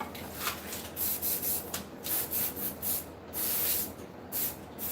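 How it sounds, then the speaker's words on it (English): White spray paint hisses onto a spoon handle in repeated short bursts, each a close, even rushing spray separated by brief pauses. "So he's spraying white spray paint onto this spoon handle"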